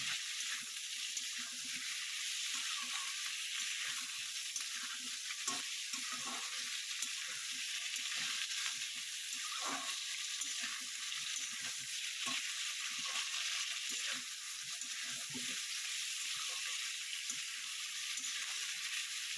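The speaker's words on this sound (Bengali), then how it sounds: "আদার বাটাটা দিয়ে একটু ভাজবো, তাহলে খুব সুন্দর গন্ধটা বেরোয় আদা বাটা।" Ginger paste fries in a pan for a vegetable and bori dish, with a faint, continuous sizzle and occasional soft stirring scrapes. No one speaks.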